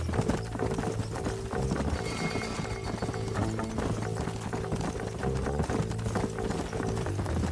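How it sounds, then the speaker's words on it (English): Horse hooves gallop in a fast, steady drumming rhythm under continuous background music, from the video game Red Dead Redemption. "Let's hold up a minute and find a spot for our horses."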